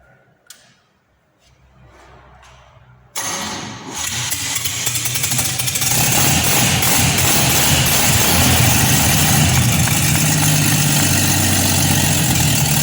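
A rebuilt 261 six-cylinder engine starts for the first time: a few faint clicks, a brief cranking whir, then it catches and settles into a loud, steady, close idle that runs on unbroken.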